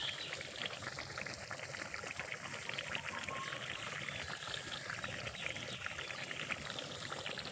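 Meat curry simmers in a pot, giving a continuous wet bubbling and gurgling close by, steady throughout with no voices.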